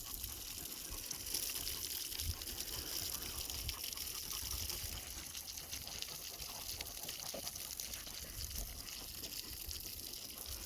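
Steady rushing and splashing of water running from hoses, continuous and fairly loud throughout, with no talking.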